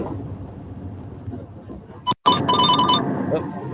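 A telephone rings during a call, a short bright ringing tone sounding through a muffled, noisy line, fairly near and brief after a sudden dropout.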